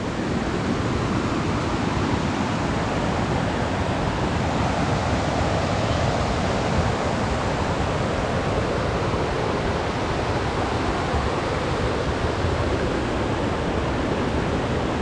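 Water of Chet Khot waterfall in Saraburi tumbles down its cascades in a constant, full-bodied roar, loud and near with no pauses or voices.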